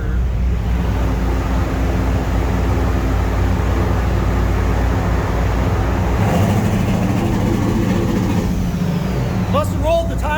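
A turbocharged truck launching off a two-step in second gear, loud and close, with a dense low engine roar that holds steady before shifting pitch partway through as the vehicle pulls away.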